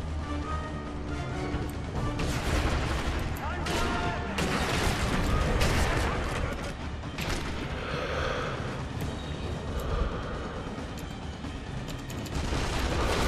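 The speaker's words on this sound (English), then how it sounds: "I'm being shot at" Incoming gunfire aimed at the player in Sniper Elite V2, scattered shots and impacts mixed with ambient game noise, moderately loud with occasional quiet voices.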